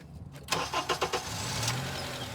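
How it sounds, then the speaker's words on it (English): A car engine cranks with several quick starter pulses, then catches and settles into a steady idle, close and fairly loud, with no talking. "I'm gonna start the car"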